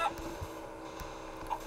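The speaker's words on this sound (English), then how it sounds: "I just killed a chicken." Honking, goose-like squawks from a chicken in a video game, a few short clucks at the start and near the end over a steady low game hum, fairly quiet.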